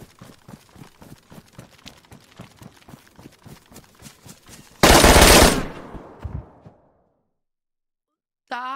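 Rapid automatic gunfire in an online shooter game crackles in a fast, even burst, followed by one loud close blast that decays into a rumbling tail, then near silence.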